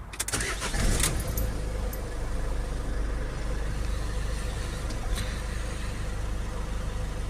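A Peugeot Boxer 2.0 diesel van engine idling with a steady low rumble, a brief rise and clatter near the start as it is switched off, then a continuing low drone.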